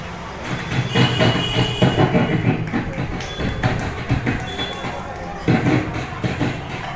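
A voice imitates a train clattering across track switches, a steady rhythmic chugging with thumping beats and background murmur.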